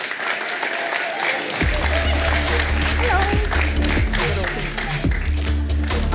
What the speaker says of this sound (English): please give a nice big round of applause for Ben Johnson and Kathryn Thompson.